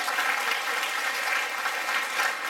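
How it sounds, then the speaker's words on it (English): Steady, dense clapping rises from an audience at a community fundraising gala, a continuous wash of applause heard at moderate level with no voices over it. "So that also deserves a round of applause."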